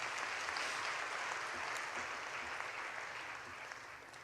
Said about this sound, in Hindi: बहुत सुंदर, ताली बजाओ।